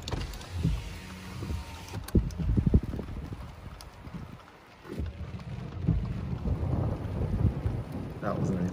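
Low, rolling thunder rumbles across a heavy thunderstorm in Big Bear, California, swelling and fading in long waves over a constant background wash, with no speech.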